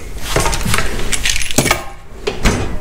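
Keys being handled and jangled while being hidden, a loud close run of metallic clinks and rattles in uneven bursts, briefly pausing before a final few clinks, no talking.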